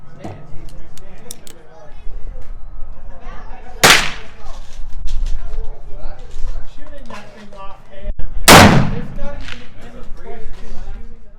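An Uberti-made Colt 1861 Navy black powder revolver fires two loud, sharp shots several seconds apart, each a sudden blast with a brief ringing tail, while someone talks in between.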